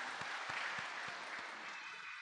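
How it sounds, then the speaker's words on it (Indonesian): A church congregation at a children's week service of the Toraja Church claps in brisk, steady applause for a couple of seconds, fairly quiet and with no talk over it. "Boleh tepuk tangan untuk kita semua."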